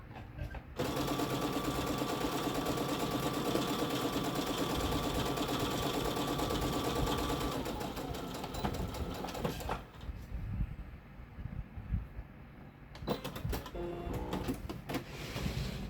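A sewing machine stitches an apron in a steady, continuous mechanical whir that runs for about eight seconds, then falls away into quieter handling noises and a few short bursts of machine sound near the end.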